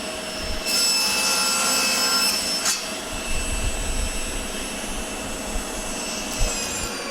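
A power saw cuts the first end of a length of wood stock for a five-sided pentagon frame. It makes a loud, steady roar that runs the whole time, with one brief sharper burst near the middle and no voices.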